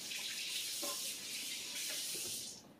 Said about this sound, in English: Now let's go ahead and wet the mopping system.